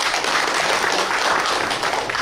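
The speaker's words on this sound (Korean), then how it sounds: "박수로 담아드리면 어떨까요?" Attendees at a provincial governor's press meeting applaud together, a continuous, moderately loud patter of many hands clapping at once that stays even throughout.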